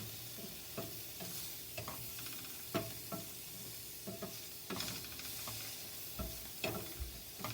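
Onions frying in a pan are stirred with a spatula, quiet steady sizzling broken by repeated light scrapes and taps at an uneven rhythm.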